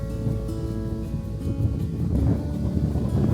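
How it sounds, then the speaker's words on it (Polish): Loud, constant wind buffets the microphone with a deep rumbling roar that swells slightly, with no voices, beside the Narew river. "Wieje dzisiaj okrutnie i to będę płynął pod wiatr."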